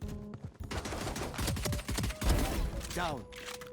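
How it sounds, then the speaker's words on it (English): Pistol gunfire in the video game Valorant, heard as a few quick shots that mix with other game effects and a talking voice over a busy, dense background. "Then I finish off the Sage with my pistol."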